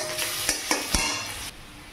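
Onion frying in a pan as the base for a fish curry, a steady close sizzle broken by a few sharp scraping stirs of a spatula.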